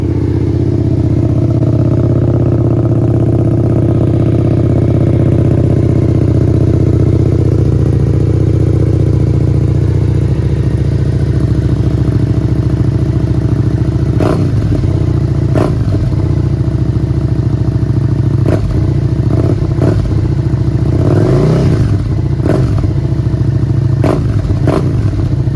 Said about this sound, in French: Et si on démarrait la petite bécane